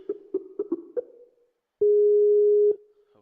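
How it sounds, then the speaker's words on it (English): A phone call starts with several short button tones from the dial pad. After a pause a steady ringing dial tone holds for about a second, and then a faint click follows. "And now we're going to call Mike."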